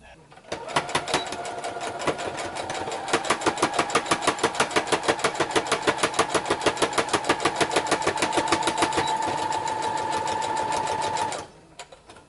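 A sewing machine stitches fabric in one steady run of about ten seconds, its rapid needle chatter holding an even rhythm before stopping abruptly.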